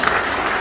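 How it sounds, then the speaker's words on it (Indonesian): A brief burst of audience clapping at a public discussion meeting in Cirebon, a short dense patter of hands. "Tepuk tangan dong ini ya."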